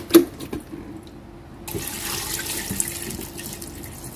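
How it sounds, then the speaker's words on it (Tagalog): Water pours into a pressure cooker for beef menudo, a steady running splash following a few faint clinks and taps, fairly close with no talking. "Tapos, lagyan ko ng tubig."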